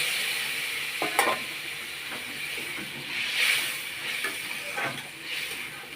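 Spice-coated amudi fish frying in hot mustard oil for a spicy curry, a steady broadband sizzle and hiss with scattered stirring clinks and crackles, close and fairly loud throughout.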